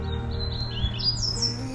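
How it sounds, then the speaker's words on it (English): A small bird gives a series of thin, rising chirps outdoors, faint and somewhat distant over a low steady background rumble. "Oh, I love the sound of that bird, Elsie."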